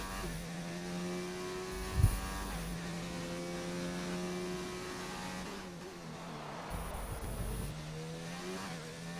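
A racing car's engine in a sim racing game at an Australia round, a loud sustained high-pitched whine that rises and drops with gear changes and brief pops.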